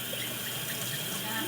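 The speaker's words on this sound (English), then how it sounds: "Okay, now pour it into the" Water pours into a measuring cup during home baking, a quiet, continuous trickling hiss with no break.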